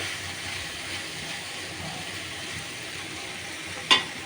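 Yardlong beans and potatoes fry as a bhaji in a pan, a steady close hiss of sizzling with one sharp clink near the end and no talk.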